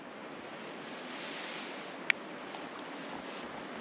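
River water at the bottom of the Grand Canyon near Bright Angel Creek, a steady broad rushing flow at moderate distance with wind on the microphone and one brief click.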